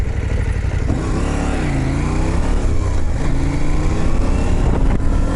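KTM 790 Adventure motorcycle with its parallel-twin engine revving steadily under load, a loud continuous drone with rising and falling pitch sweeps as the rider accelerates through the gears.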